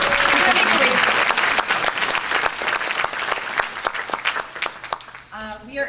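Festival audience at an opening-night screening of Indigenous arts breaks into sustained applause, dense and loud, fading slightly toward the end as a voice begins speaking.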